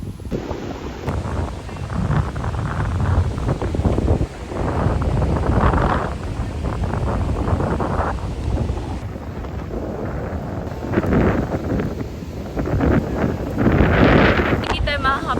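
Strong wind roars across a beach in Palawan, a steady broadband rush that buffets the microphone for the whole stretch, with some talk mixed in underneath.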